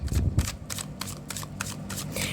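Tarot cards are shuffled by hand close up, with a quick run of soft, papery riffles and flicks repeating evenly for a couple of seconds.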